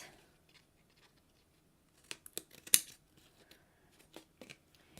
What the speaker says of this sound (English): turn that over, and cut off these bits.